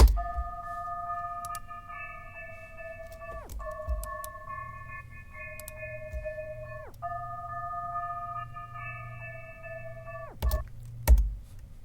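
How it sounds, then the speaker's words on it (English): A Harmor synth with its high and low frequencies cut plays sustained chords in three repeating blocks, each gliding down at the end, with a few sharp clicks near the close. "this is what the synth sounds like"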